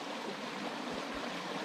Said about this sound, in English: this sacred water comes from the mountain, comes all year, stays cold even in the hottest